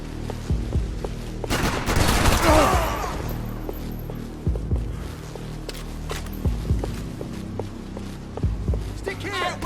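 Gunfire rings out in Max Payne 3 in the Favela Nova Esperança, with a dense burst early on followed by scattered sharp shots and short volleys over a low background hum.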